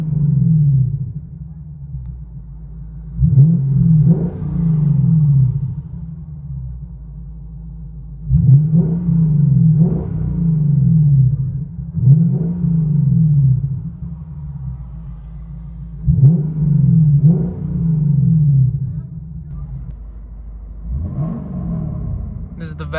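A Lexus IS 500 with a 5.0L V8 and aftermarket axle-back exhaust, recorded from inside the cabin, gives five or six deep rev blips over a low rumbling idle. Each blip rises and falls back, and a little talk runs under it.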